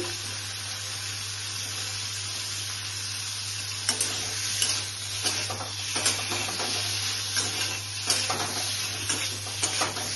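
Ghee sizzles and crackles steadily in a pan as ingredients for a sesame paneer curry fry, with intermittent louder stirring scrapes and pops over a constant low hum.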